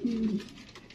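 A red checker pigeon gives one short, close coo with a low tone that fades quickly. No one speaks over it.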